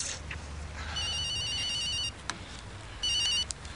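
An electronic telephone rings twice indoors, each ring a steady warbling burst of about a second, separated by a short pause with faint background noise.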